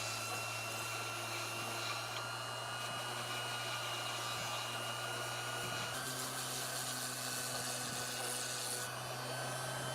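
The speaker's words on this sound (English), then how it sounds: "and then finishing it off with a random orbital sander" A random orbital sander drones steadily and close up on the carved body of a custom guitar with a maple top, a continuous whirring hum with a slight shift in tone near the end and no talking.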